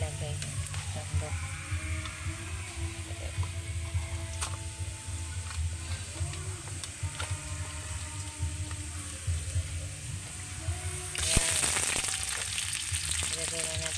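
Meat sizzles and fries steadily in a pan, a constant close crackle with occasional clinks of a ladle, and it rises in intensity near the end.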